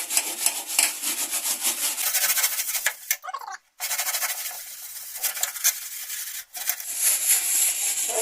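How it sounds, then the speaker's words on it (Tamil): A gas stove, left uncleaned for years, is scrubbed with Cleanso Hard Stain Remover. Close, repeated rasping scrub strokes come in quick bursts, broken by a few short pauses. "நல்லா ஸ்க்ரப் பண்ணியாச்சு."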